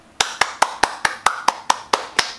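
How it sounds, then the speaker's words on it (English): Hands clapping ten times in an even, moderately quick rhythm, sharp and close with short decays and no talk. "Clap for yourself sometimes."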